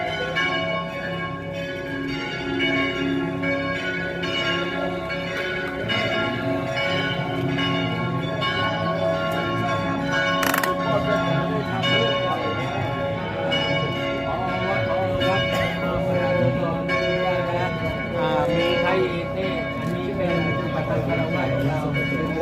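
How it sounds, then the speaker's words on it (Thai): Church bells ring at a Catholic parish community celebration in Ratchaburi, Thailand, a sustained layered peal that rings steadily throughout, with voices and crowd noise mixed in underneath. "เอาระฆังข้างบนหน่อยส่งสัญญาณหน่อย"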